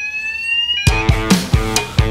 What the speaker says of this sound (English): The fire alarm now? Are you kidding?